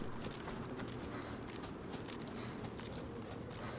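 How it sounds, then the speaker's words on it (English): Footsteps of a player character in the DayZ survival game on a hardcore Namalsk server, a steady scuffing walk with soft irregular thuds and clops over constant background ambience, fairly close and moderately loud. "Sort of loud footstep."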